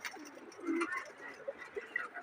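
Pigeons, some of them sick, set out in the sun, giving soft low throaty coos close by, several short calls over a quiet background with faint voices nearby.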